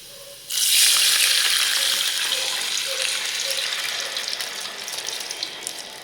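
Cracked wheat tipped into a hot pan together with its soaking water for upma, setting off a sudden loud, broad sizzle and bubbling hiss that stays steady and slowly softens, with no talking.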